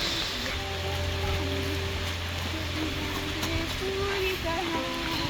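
Monsoon rain falls steadily around a spot in Amarkantak, a constant soft hiss of drops on surfaces with faint tonal sounds threaded through and occasional voices nearby.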